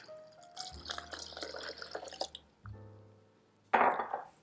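Two cups of water are poured for a vegan lasagna white sauce, with close splashing and trickling into a container, a brief pause, then a sharper splash near the end.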